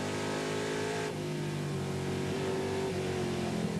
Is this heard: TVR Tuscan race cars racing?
yes